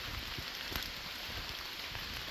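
Rain falls outdoors on a chilly camping trip, a steady soft patter with scattered closer drops, quiet and continuous with nobody speaking.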